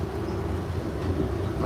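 Inside a moving train, a steady low rumble and hum runs evenly throughout, with no distinct clacks and no voices.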